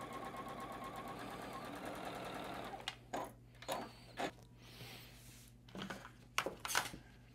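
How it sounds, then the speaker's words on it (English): A domestic sewing machine stitches batik quilt-block pieces into a pinwheel: a steady, close, continuous whir for about three seconds, then stopping, followed by short bursts of handling and clicks from the fabric and machine. "We're gonna sew this on first, making sure it's on the left-hand side."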